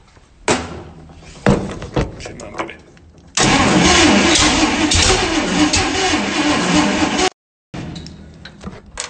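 A Chrysler 230 flathead six in a Dodge Power Wagon cranks on starter fluid with a few short bursts, then catches and runs loud and rough for several seconds before cutting out abruptly and cranking again, with a person speaking around it.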